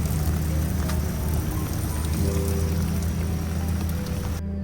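Rain falling outdoors at a Kerala seaside resort, a steady, dense hiss of drops on surfaces that holds evenly throughout and cuts off abruptly at the very end.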